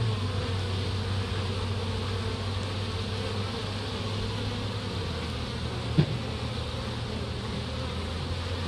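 A steady, dense hum of many honeybees buzzing close up at a hive entrance, with a brief faint tap partway through.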